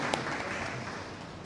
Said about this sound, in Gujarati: એને આપણે ખૂબ તાળીઓથી એમને વધાવી લઈએ.